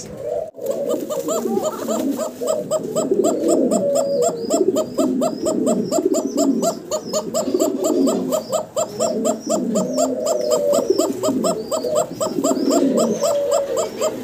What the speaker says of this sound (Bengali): মাশাআল্লাহ অসাধারণ ডাকাটাই করতেছে চমৎকার এক জোড়া ককা কবুতর।